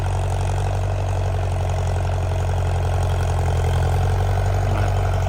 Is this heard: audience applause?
no